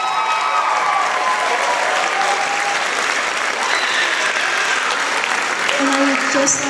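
Steady applause from a school audience at a spring vocal music concert, many hands clapping in a dense continuous wash, with faint voices mixed in.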